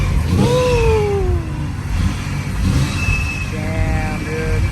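A supercharged Ford Mustang with a Liberty Walk build revs loudly nearby, its engine pitch rising and falling in swells over a heavy rumble, with voices talking in the background.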